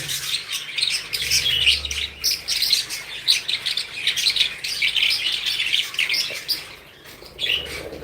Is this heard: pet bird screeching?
yes